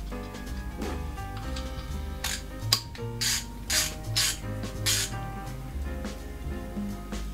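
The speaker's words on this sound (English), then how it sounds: "The ratchet is rather standard chromium vanadium steel" A Powerfix Profi Plus ratchet of chromium vanadium steel clicks in a loud, close, steady run of pawl ticks with a few sharper bursts, and nobody speaks.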